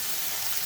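Pieces of a local village rooster frying in a pan give a brief, steady sizzle with broad hiss, fairly quiet and without talk.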